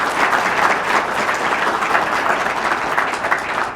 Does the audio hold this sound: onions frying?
no